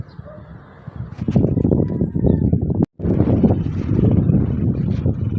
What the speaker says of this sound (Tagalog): lakas ng hangin kahit mataas malakas ang hangin